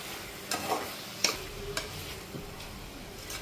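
A spoon scrapes and turns through a vegetarian bottle gourd biryani in a pot, giving a few irregular, close scraping strokes with soft clatter between them and no talking.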